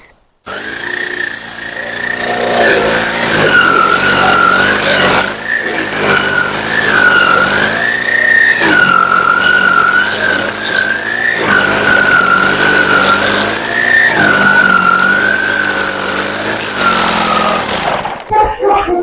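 A string trimmer with nylon line cuts through grass, a loud, high, continuous whine close by, its pitch wavering as the line bogs and recovers in the growth, stopping abruptly near the end.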